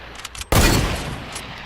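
A hunting rifle fires in Fortnite, heard as a single loud, sharp shot that rings out and decays after a few faint, quicker pops in the game.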